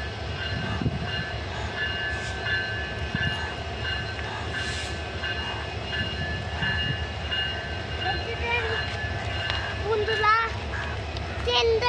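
A rail engine moves through a railway workshop yard with a continuous loud rumble, clanking and brief metallic wheel squeals, while children's voices talk over it.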